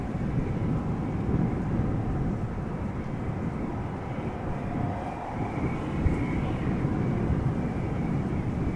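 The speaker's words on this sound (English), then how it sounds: "Estonian flag liveried Air Baltic A220 arrive from Riga" An Air Baltic Airbus A220 in Estonian flag livery arrives from Riga at Amsterdam Schiphol, a steady low jet rumble heard from a distance that holds evenly throughout.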